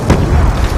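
A grenade explodes in a Call of Duty match on the Nuketown map, a single loud, close boom that lasts under a second.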